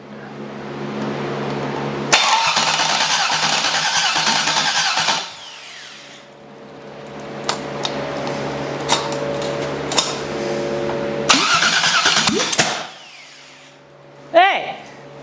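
A car engine fitted with MSD ignition cranks in two loud bursts of starter whirring, then catches and runs unevenly at a steady idle with a few sharp pops, before a final short crank near the end.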